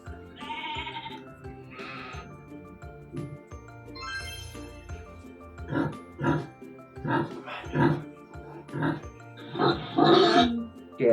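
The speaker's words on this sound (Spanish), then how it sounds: "¿Qué animal es? Un chancho." A pig oinks and grunts in a rapid series of short, loud snorts that grow stronger toward the end, mixed with other farm-animal sounds and with people talking.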